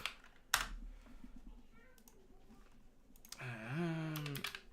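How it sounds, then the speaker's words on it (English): Computer keyboard typing in a home office, soft and close, with scattered light key clicks for a few seconds before a voice speaks over the end. "Excuse the typing."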